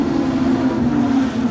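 Production sedan race cars lapping at Ellenbrook Speedway, a steady loud engine drone holding one pitch without a break, with no talk over it.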